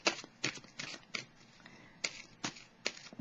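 A tarot card is drawn from the deck and shuffled, giving a handful of crisp, close paper flicks and slaps spaced irregularly over quiet.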